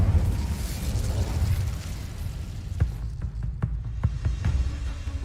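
Incendio fire spell cast in the game Hogwarts Legacy on PC: a roaring, rumbling burst of flame that dies into a series of sharp crackles and pops, heard alone with no speech.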